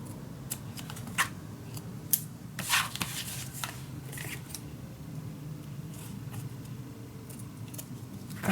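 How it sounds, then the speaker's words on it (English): Scissors snip paper for a steampunk Christmas mini album, a series of sharp, crisp cuts scattered over a low, steady background hum. "Let me cut this quickly off so I can cut this nice."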